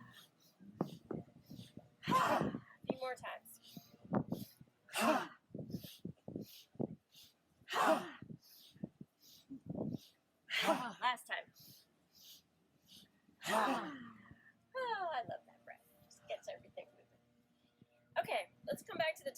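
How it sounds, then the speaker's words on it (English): Repeated audible mouth exhales during yoga breathing, a series of breathy sighing puffs at an uneven pace with short gaps between them, close and fairly quiet. "exhale out the mouth with sound"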